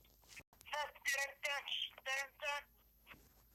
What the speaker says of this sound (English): Whose phone is making that noise?